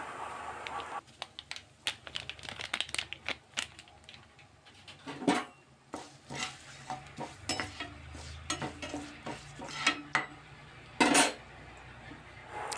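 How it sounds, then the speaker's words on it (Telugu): Dried red chillies and turmeric frying in a pan, with repeated clinks and scrapes of a spoon stirring against the metal over a soft sizzle, close by and alone. "కొంచెం పసుపు వేసుకొని బాగా వేయించుకుందాం."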